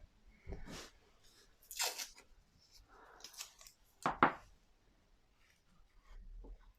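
Tape is pulled and torn off in a quiet studio setting, a few separate ripping and crinkling bursts spaced across several seconds, close and fairly soft.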